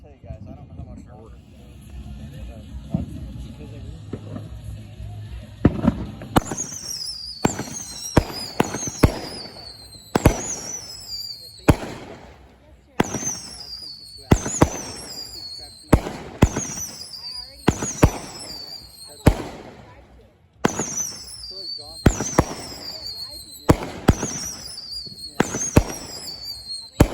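Fourth of July fireworks go off in a rapid series of sharp, loud bangs, each followed by crackling sparkle, after a quieter stretch of talk at the start.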